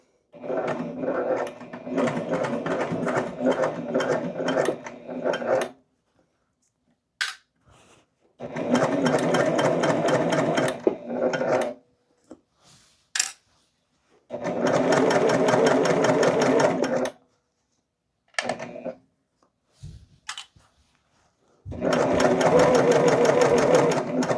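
A sewing machine stitches a seam on a woven dolman dress in four long runs separated by short pauses, each a close, steady, rapid mechanical whir with brief clicks between bursts.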